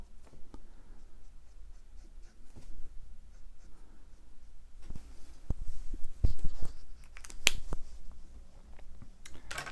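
A Micron pen draws on paper during comic-style illustration, giving soft scratchy strokes and small ticking taps that are quiet and close, with no talk.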